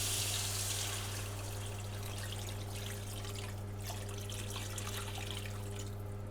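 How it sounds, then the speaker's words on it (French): Water poured into a cooking pot over vegetables for Senegalese rice, a steady close splashing and trickle over a constant low hum from the kitchen. "on va rajouter de l'eau."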